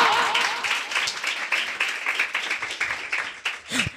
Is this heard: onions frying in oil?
no